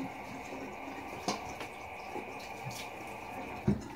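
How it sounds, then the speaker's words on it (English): Water splashed by hand while shaving with Lavender Vetiver soap: a few faint, scattered splashes and drips over a steady low background hum, with no talk. "I'm going to splash a little more water."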